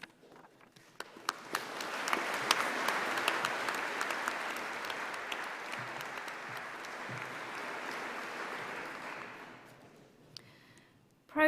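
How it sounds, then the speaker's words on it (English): Audience at a UCLan university graduation ceremony bursts into sustained applause that swells after a quiet start, holds steady for several seconds as a dense wash of clapping, then fades out near the end. "make sure to clap and cheer and make this a day to remember for everyone who is here"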